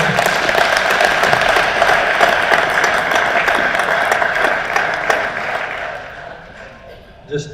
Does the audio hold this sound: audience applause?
yes